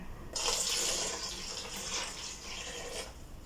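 Water pours steadily into a cup in a home kitchen while banana bread is being made, a close, continuous splashing stream with a slight surge at the start and no talking.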